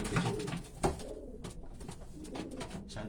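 A racing pigeon coos close by in low, throaty repeated calls, with light rustling around it and no talking.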